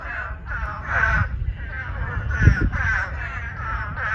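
A dense chorus of loud, nasal calls from about ten Hurter's spadefoot toads overlaps in repeated bursts close by, with low rumbling underneath, in Port Aransas.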